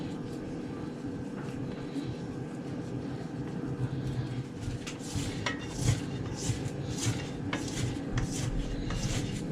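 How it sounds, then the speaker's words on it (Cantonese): Sourdough bread dough is mixed in a bowl, producing a steady run of close scraping and clinking against the bowl with soft sticky knocks over a low background hum. "咁跟住咧就撈勻佢"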